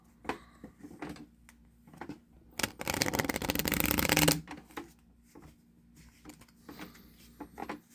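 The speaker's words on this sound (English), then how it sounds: "shuffle a couple more times" Playing cards are shuffled in a quiet indoor room: a dense, steady riffle-and-bridge burst of about two seconds, close to the ear, with soft taps and card handling before and after.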